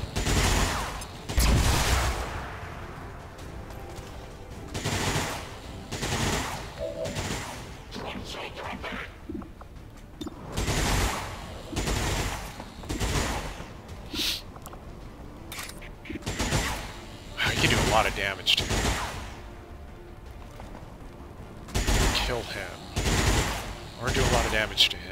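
Gunfire in a tactical video game, including an armor-shredding shot, heard as repeated sharp bursts of shots spaced across the stretch, with a person talking between them.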